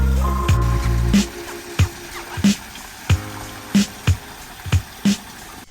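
Water spills over a koi pond waterfall on a waterfront property on Kent Island, Maryland, giving a low running flow under a string of sharp, evenly spaced splashy taps and drips close by.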